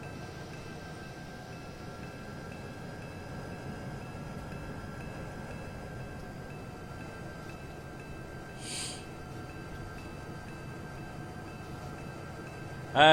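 Union Pacific GP20 diesel locomotive from Train Simulator 2015 rumbling steadily as it moves, a continuous low drone with a faint tonal whine, plus a brief hiss near the end and a sharp click at the close.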